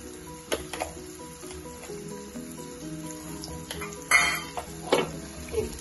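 A spoon stirs gongura pachadi in a metal pan with soft scraping and occasional clinks of utensil on metal, plus faint sizzling in the background.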